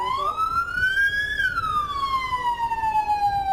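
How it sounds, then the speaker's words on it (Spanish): A SAMU ambulance siren sounds loud and close as the vehicle arrives at a children's hospital in San Borja, one long rising then slowly falling wail with no voices. "En esta ambulancia del SAMU llega de emergencia al Instituto Nacional de Salud del Niño San Borja"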